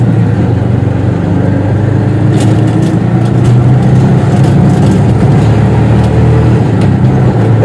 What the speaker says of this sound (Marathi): इकडनं गाड्या वगैरे येतच असतात सारख्या.